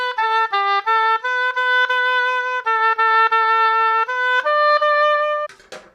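Oboe with its double reed fitted into the body, playing a short sequence of clear sustained notes with distinct breaks between them, close and solo, ending with a brief soft noise.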